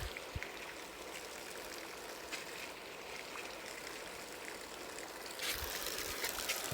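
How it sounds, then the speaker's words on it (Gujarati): Water running directly into a village pond, a faint, continuous trickling wash like a small stream, distant and steady with a slightly louder splash near the end. "ત્યારે પાણી જાય છે ડાયરેક્ટ તળાવમાં જાય"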